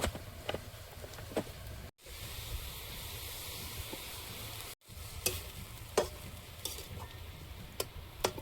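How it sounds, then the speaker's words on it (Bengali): Raw prawns being mixed by hand with salt, a pinch of turmeric, onion and green chilli, giving soft wet stirring and squelching, with a few sharper clicks and two brief silent gaps, fairly quiet and without any talk. "লবণ আর এক চিমটি হলুদ গুঁড়ো পেঁয়াজ কাঁচা লঙ্কা চিংড়ি মাছের সঙ্গে মিশিয়ে নেবো"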